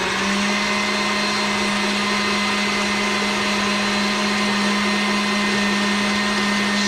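An electric mixer running on high while whipping cream with confectioner's sugar and vanilla, a loud steady motor whine with a constant low hum, unbroken from start to finish.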